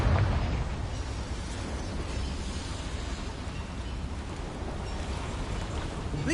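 A Confringo fire spell explodes in Hogwarts Legacy as a loud, sustained fiery blast and roar, a dense rumbling burst that fills the whole stretch with no clear break.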